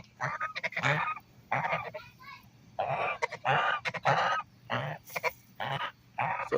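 Hungry geese honk loudly in repeated bursts at close range, with short gaps between calls and a person speaking briefly among them.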